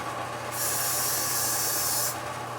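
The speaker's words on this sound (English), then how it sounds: "let me do another layer of this spray." Spray hissing steadily onto a wig for about a second and a half, a bright continuous burst from an aerosol or spray bottle, close and fairly loud against a quiet room.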